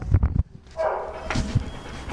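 Malinois dogs right after being separated give a few short close barks, followed by softer whimpering and a brief yip.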